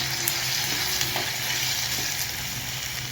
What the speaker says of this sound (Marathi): भोपळा पण चांगला असं परतून घेऊया आपण चांगला